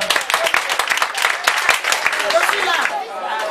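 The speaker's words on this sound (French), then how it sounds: "Femmes du marché, merci encore de vous applaudir vous-même." Audience clapping at a ceremony in a market-women's partnership event, a dense burst of many hands applauding close by, with voices mixed in and the clapping thinning out toward the end.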